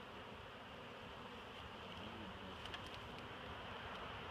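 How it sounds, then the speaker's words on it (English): A honey bee swarm buzzes steadily around a top bar hive outdoors, a dense continuous drone with light wind noise and no speech. "Pretty cool, all them bees, huh?"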